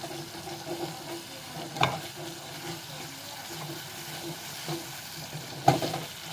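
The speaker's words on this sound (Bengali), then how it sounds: "এই যে দেখেন ভালো করে কষিয়ে নিচ্ছি" Fish curry sautéed in a pan with little oil, made from the national fish: a low, steady sizzle with occasional scraping knocks of a stirring spoon, moderately close and fairly quiet, no voices.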